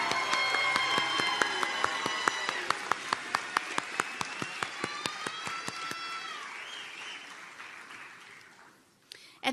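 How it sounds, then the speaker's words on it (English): Audience applause for BSN nursing graduates at a nursing convocation, sharp claps ringing out in a steady burst across a large hall amid crowd noise, thinning toward the end before a final single clap. "Let's have one more round of applause for all of our BSN graduates"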